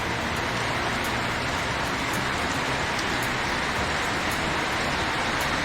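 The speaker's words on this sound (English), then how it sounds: "The rain." Rain falls steadily near a home with a freshly repaired roof, a loud, even hiss of drops that keeps going without a break and with no voices.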